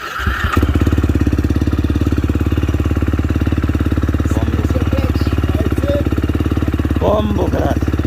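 A motocross bike engine runs steadily on the track with a fast, rough, pulsing putter close by. A person's brief exclamations sound over it near the end.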